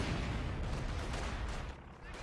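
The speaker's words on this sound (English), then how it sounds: "These conscripts are getting ripped apart, but it's a Maxim, not a MG42" Dense, continuous gunfire and battle noise in the World War II strategy game Company of Heroes 2, with a Soviet Maxim machine gun firing, loud and unbroken throughout.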